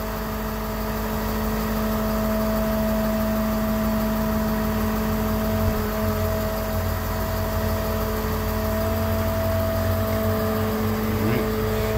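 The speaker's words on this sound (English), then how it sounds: "And this is just at idle. I'm not hit the accelerator," A 2021 Ford F-600 dump truck engine idling in gear, a steady low, even rumble with a constant hum that continues unchanged and alone throughout.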